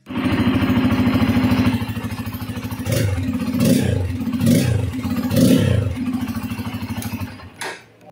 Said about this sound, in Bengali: ইঞ্জিনের সাউন্ডটা আপনাদেরকে শুনিয়ে দিই।